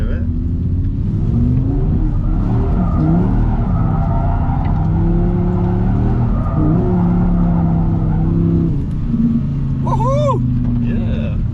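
A car drifting in second gear with its tires skidding and squealing over a steady, loud engine drone, a rising tire screech near the end, with people talking inside the car.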